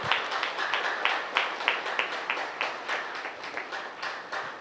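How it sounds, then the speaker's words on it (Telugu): An audience at a political party success meeting claps together, producing a run of sharp, evenly spaced hand claps at moderate volume with no one speaking. "మరొకసారి గట్టిగా క్లాప్స్ ఇవ్వండి."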